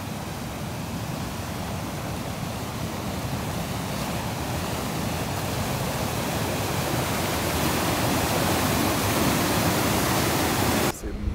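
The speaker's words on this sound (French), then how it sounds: "On est revenu à la cascade, elle est tellement belle." A waterfall with a strong current in Antalya roars continuously and loudly up close, a dense, unbroken rush of falling water that swells slightly toward the end.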